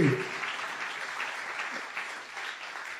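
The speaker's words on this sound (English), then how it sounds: "Clap our hands and praise God" A church congregation claps in praise, a dense, fairly faint patter of many hands that runs steadily from start to finish, with a brief voice at the very beginning.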